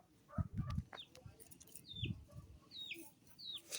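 Chickens clucking at a rural home in northeast Thailand, with short bird calls scattered through and low murmurs of people talking nearby.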